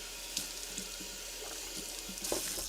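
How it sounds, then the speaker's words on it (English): Cool tap water runs and splashes over broccoli sprouts being rinsed in a container, a soft continuous trickle with small sloshing bursts, close and fairly quiet. "we're just going to again rinse with cool water"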